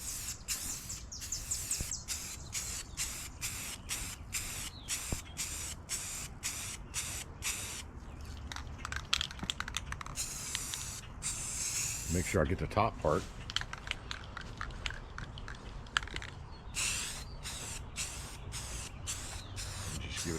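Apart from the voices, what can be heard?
spray painting car part with aerosol paint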